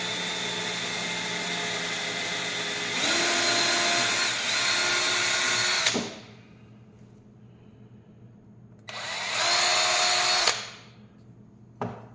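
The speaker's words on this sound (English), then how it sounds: "I drilled out my hole. I use this taper bit." A power drill with a taper bit whirs steadily through wood for a wooden ring, stops, then starts again for a second shorter burst before winding down, with quiet pauses between.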